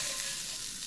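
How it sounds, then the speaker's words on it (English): Peppers and onions sizzling in a dry pan with no oil, a steady close hiss of frying that holds for under a second. "Let's get these peppers and onions in here."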